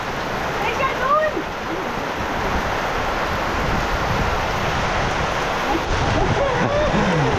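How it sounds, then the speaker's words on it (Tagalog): Steady rain falls over a papaya farm, a dense, continuous hiss that stays loud and even from start to finish, with faint higher chirps now and then. "Tuwan-tuwa sa ulan si Renren Dungis oh."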